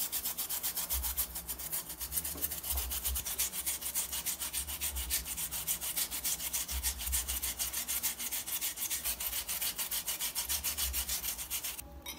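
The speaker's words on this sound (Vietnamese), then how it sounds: "Các bạn hãy bào nhỏ củ khoai tây này nhé." A peeled potato is rubbed against a hand grater, producing a continuous close-up rasping scrape with steady back-and-forth strokes and no talking.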